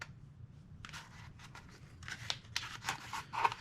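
Tape being pulled and torn while attaching a piece of costume armor: a series of short, crackly rips and peels, close and moderately quiet, with a brief pause before the bursts start.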